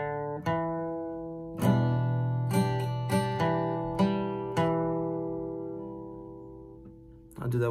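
Clean acoustic guitar picking an intro riff, with single plucked notes and a few struck chords ringing out close up with long sustain, played alone with no talk over it.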